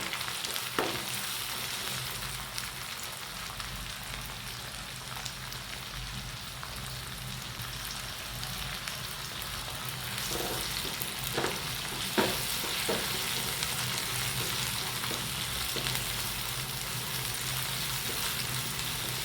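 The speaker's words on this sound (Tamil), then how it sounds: "இப்போ தக்காளி கொஞ்சம் ஆட் பண்ணிக்கலாம். தக்காளி ஆட் பண்ணி நல்லா வதங்கட்டும்." Tomatoes frying with golden onions for egg masala gravy: a continuous close sizzle with crackling, and in the later half a cluster of sharper spatula scrapes and taps against the pan.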